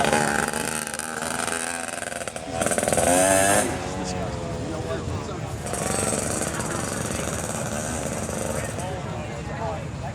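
An antique motorcycle engine chugs and revs at an outdoor show, a rough, loud, pulsing exhaust rising in a couple of throttle blips, with people talking nearby under the engine noise.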